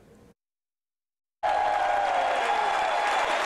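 Cheering supporters at a midterm campaign rally in Erie, Pennsylvania: after a short gap of silence, a loud, dense wall of crowd applause and cheering rises suddenly and holds steady.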